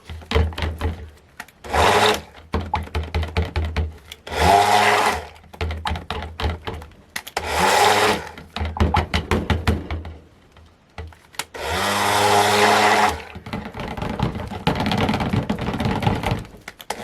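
Electric blender mixing apple cinnamon cold process soap batter, running in several loud bursts of a few seconds each, separated by short pauses, with no talk over it.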